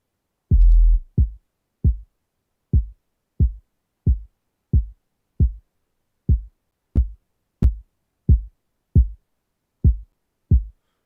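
A deep, booming kick drum layered with sub bass in FL Studio thumps in a steady, slightly uneven pulse, about fifteen short hits, each with a hollow bouncing-ball character, alone and loud.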